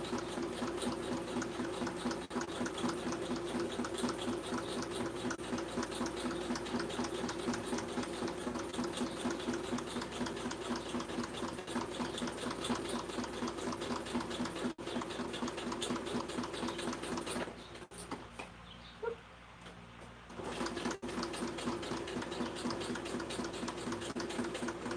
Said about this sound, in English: you don't just want to sit there and listen to me stitching for ages